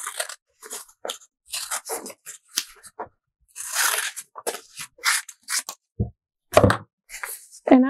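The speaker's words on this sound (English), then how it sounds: "I'm going to cut off all the extra paper." Scissors snip through a paper sewing pattern for a bra's upper cup, making a run of close, dry crunching cuts with short pauses and a slight rustle of paper between strokes.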